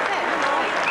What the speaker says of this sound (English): there was a large roar from the crowd, which is a very big crowd here at Carrara